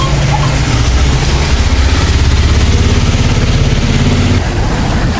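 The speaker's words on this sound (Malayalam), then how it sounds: "ബൈക്ക് പോകാനുള്ള പേടകം തയ്യാർ" A motorbike engine runs steadily at close range, loud and continuous, with a low rumbling idle throughout.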